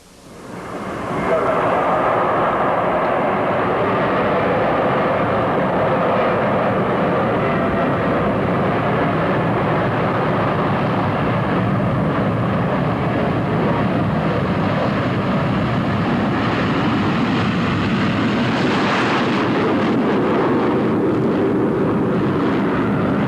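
USAF Thunderbirds jets perform at the 1986 Texas Air Expo air show in Waco, producing a loud, sustained roar that fills the whole stretch and swells briefly as a jet passes near the end.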